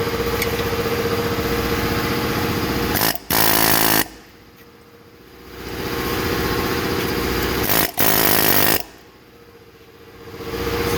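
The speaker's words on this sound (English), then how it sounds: "I'll show you how we use the air hammer to get it out." An air hammer works loose a front wheel bearing on a 2017 Chevy Silverado. It rattles loudly in long sustained bursts, with short pauses and two brief breaks, close by and with no talk.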